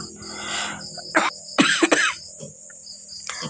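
A few short, harsh coughs close by, one isolated then a quick cluster, with crickets chirping steadily in the quiet background.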